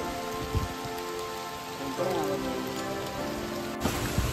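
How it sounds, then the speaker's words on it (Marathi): Heavy rain falls steadily in a hilly ghat, a dense, continuous hiss of drops hitting surfaces close by, with no voices heard. "पाऊस खूप आहे"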